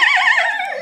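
A person vocally imitating a horse neighing, one loud, close whinny-like voiced cry with a wavering pitch that slides down at the end, lasting under a second.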